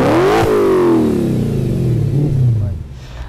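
A naturally aspirated V8 engine in an Audi S4 revs loudly and close, the pitch climbing then sliding down into a deep rumble as it settles.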